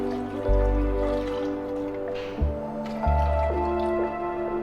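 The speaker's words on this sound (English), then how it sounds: "Need to add some water." Water poured from a vessel into a pot of black chickpeas and potatoes, gurgling and splashing in a few distinct pours with rising pitch as the pot fills, close and clear.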